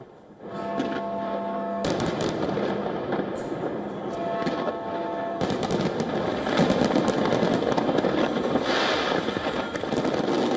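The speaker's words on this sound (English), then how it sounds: "London celebrated with an extravagant fireworks display along the River Thames" New Year fireworks over the River Thames in London, a dense continuous crackle and rumble of bursts with sharp pops, loud and sustained amid a hum of crowd noise.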